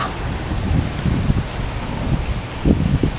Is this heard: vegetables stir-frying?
no